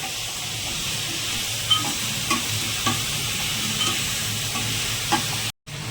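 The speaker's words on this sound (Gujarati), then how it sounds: "આ બધી વસ્તુને બરાબર ચલાવી લેવાનું છે ફ્રાય કરી લેવાનું છે" Khichdi ingredients fry in hot oil for Gujarati vaghareli khichdi, giving a steady, close hiss and sizzle. A spoon stirs and taps the pan every second or so, and a brief silent gap comes near the end.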